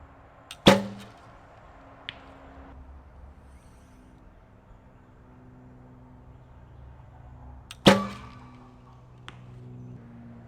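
Two sharp arrow releases with quick thwacks as Easton X10 Parallel Pro 3.2mm arrows hit the target, about seven seconds apart, over a faint outdoor background.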